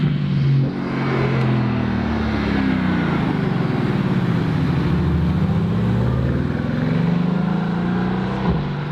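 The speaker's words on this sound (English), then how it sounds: "So Nico's having fun now, as you can see, driving the car as it should be driven" A Mercedes-AMG GT R sports car driven hard at Mercedes-Benz World, its engine note swelling and dipping steadily as it revs through gears, loud and continuous throughout.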